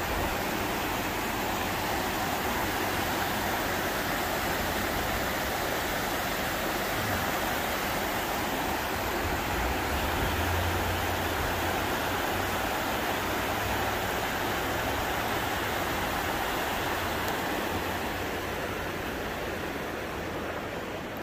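Water rushes steadily through newly built rapids in a pelican's enclosure, a dense, continuous broadband roar that holds at an even level from start to finish, with no voices over it.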